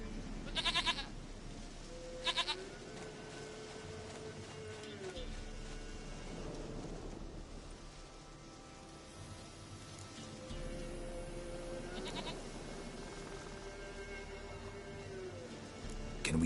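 Goat bleating in The Witcher 3, with two short, loud bleats near the start and fainter ones later, heard over a steady game ambience with low music and rumbling.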